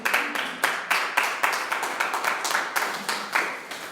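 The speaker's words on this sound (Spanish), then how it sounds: "Dale un aplauso a Dios, por favor." A congregation at a church service claps in quick, fairly loud bursts, with many hands slapping in an uneven rhythm throughout and no speech over it.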